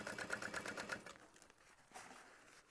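A sewing machine top stitches through a quilted vinyl bag, a quick rhythmic burst of needle strokes for about a second, then quieting to faint mechanical whirring and a soft clunk.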